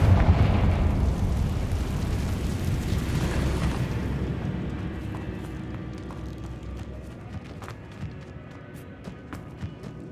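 Confringo fire spell explosion in Hogwarts Legacy, a heavy booming burst up front that rumbles and fades over several seconds, followed by scattered small pops and debris clicks.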